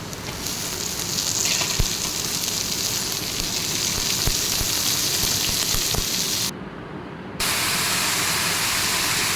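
White punarnava leaves hit a hot frying pan and sizzle in a steady, close hiss, with a brief dip in the middle before the frying noise returns at full strength.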